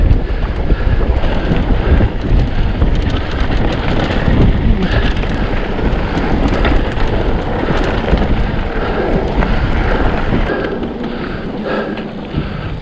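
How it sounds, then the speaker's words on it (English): Steady, strong wind buffeting the microphone during a downhill cycle descent into a slight headwind on Cleveland Hills moorland, a continuous broadband roar that eases slightly near the end, with no talking. "It's got a slight headwind"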